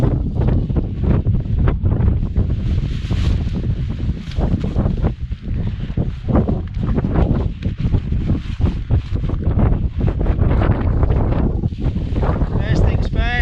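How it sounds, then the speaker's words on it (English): Strong wind gusting and buffeting a Hilleberg Soulo tent on a UK mountain during a winter storm, loud roaring rushes and flapping throughout with no pause. "So we've got a bit of wind around."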